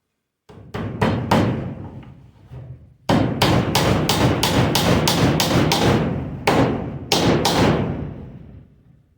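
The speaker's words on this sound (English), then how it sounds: "just nail half of it, just nail the one side." Nails are hammered into metal joist hangers while a garage loft is built: loud, ringing hammer blows land close by, a few quick strikes first and then a long rapid series with short pauses between groups.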